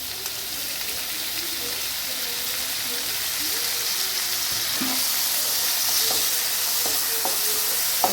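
Two tomatoes fry in hot oil in a pan with a continuous close sizzle, punctuated by a few scraping stirs toward the end, and a voice talks faintly underneath.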